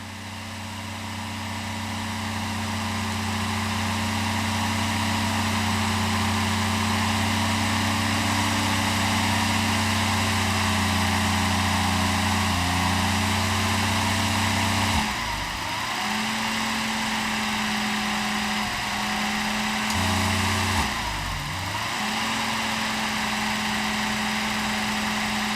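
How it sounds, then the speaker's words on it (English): A Mercedes 600SL engine idles steadily with a constant low drone and a persistent hum on top, briefly dipping twice as the running changes, with no talking. "The humming noise came back on after the engine was restarted."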